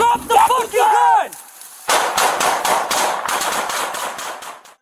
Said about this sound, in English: Officers open fire.